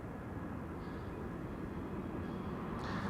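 A Lufthansa Airbus A319 arriving at Amsterdam Schiphol from Munich gives a steady low engine rumble, heard from a distance and holding level throughout.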